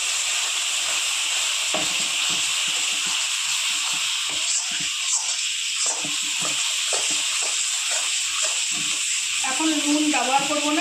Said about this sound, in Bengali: একসাথে সমস্ত মশলা আমি কষিয়ে নেব।